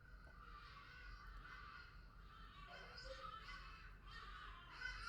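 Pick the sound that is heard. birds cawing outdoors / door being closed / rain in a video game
birds cawing outdoors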